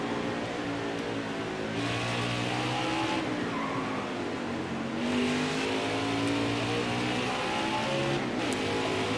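A NASCAR race car on the Charlotte Roval in NASCAR Heat 5 drones and revs steadily, with shifting engine pitch and occasional tire squeal, close and continuous with no talk.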